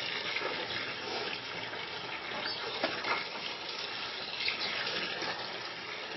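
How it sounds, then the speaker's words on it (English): Water pours steadily onto freshly planted flower seeds, making a continuous close splashing and trickling rush that barely changes over the pour. "we're going to put in a lot of water"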